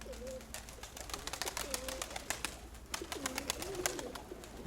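Pigeons coo close by, soft repeated throaty rolling calls under a clatter of sharp wing flaps and scuffling, faint and uneven, with no voices.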